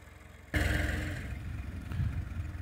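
A tractor engine suddenly starts up and keeps running with a steady, low, throaty rumble close by, with no voices.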